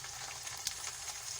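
Chicken pieces go into a pan of golden fried onions for a Bombay biryani, hissing in a steady, close sizzle with no voices.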